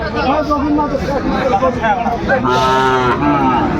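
Sahiwal cattle moo loudly and close by, several drawn-out calls over a busy background of people talking at a cattle market.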